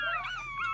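A purebred chihuahua whimpers and whines in a thin, high, wavering tone, one drawn-out plaintive cry close by.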